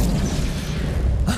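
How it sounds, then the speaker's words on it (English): Lightning strikes a truck in LEGO Fortnite, a loud rumbling boom and crackle filling the whole moment, ending in a sharper burst. "Our truck got struck by lightning."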